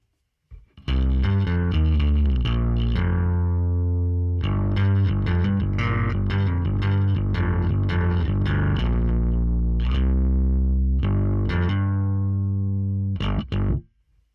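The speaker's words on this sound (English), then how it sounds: "You can hear that even though it's quite a driven tone, it's still very solid." A bass guitar with a heavily driven, distorted tone through a Line 6 Helix plays a busy run of punchy notes, loud and close with a solid low end, before stopping abruptly.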